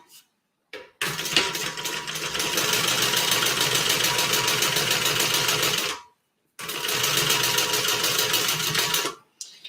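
A sewing machine top stitches through the lining at the bottom of a bag pocket, running in steady loud bursts with a brief pause between two long stitching runs and no talking.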